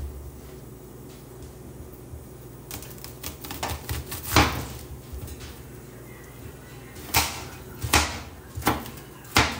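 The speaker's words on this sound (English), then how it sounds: "Cut some onions up." Onions are chopped on a board with a knife, giving sharp, irregular knocks in small clusters and single strikes, fairly close and moderately loud, over a faint background hum.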